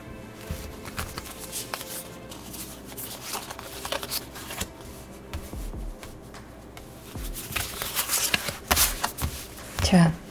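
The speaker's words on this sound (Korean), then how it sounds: "카드 오픈하겠습니다." Tarot cards are handled and flipped over one after another during a reading, with soft papery rustles and light taps close by, mixed with speech throughout and a louder burst of card noise near the end.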